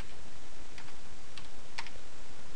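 Light typing on a computer keyboard in a Linux terminal, a few soft quick key clicks over steady background hiss, close and faint.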